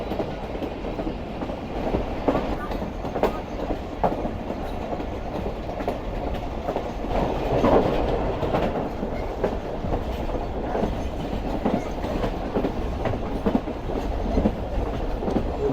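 A passenger train runs on the Larkana to Kotri line in Pakistan near Jamshoro at night, with a continuous rumble and repeated clickety-clack of wheels over rail joints heard from inside, with occasional louder knocks and no voices.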